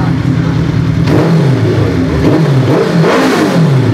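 A Suzuki Hayabusa Gen 2 motorcycle engine revs hard and close, its loud roar rising and falling in repeated throttle blips that sweep up and down in pitch.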